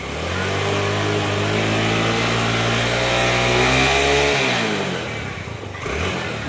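A vehicle engine revs steadily and loudly while the vehicle stays still with a broken drive belt, holding a sustained drone before the pitch drops and settles near the end.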